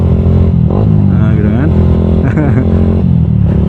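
A motorcycle fitted with a loud racing exhaust idles with a rough, throbbing drone and rises in brief revs, close and steady throughout, with a person talking over it.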